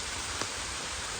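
Steady rain falls in the early morning, a continuous even hiss of drops with one faint tick partway through, no voices present.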